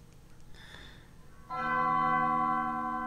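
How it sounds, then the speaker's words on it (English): Church bells in the Undertale video game ring out as a sudden, sustained chord of bright, layered tones that begins abruptly after a short stretch of quiet, airy sound and holds steady until the end. "Church bells!"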